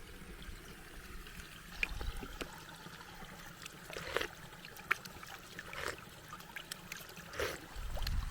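Water trickles and flows across the jungle ground in a faint, steady stream, with soft scattered splashes and rustles close by.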